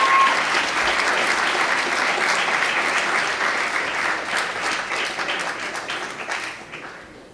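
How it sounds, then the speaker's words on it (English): A crowd at an awards ceremony breaks into sustained applause, steady and fairly loud, gradually fading toward the end. "So please give them a round of applause."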